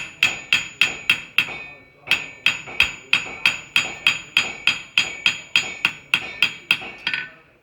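A blacksmith hammers leaf veining into hot metal, sharp ringing blows in a fast, even rhythm, five strikes, a short pause, then a long steady run of about fifteen more, close and loud.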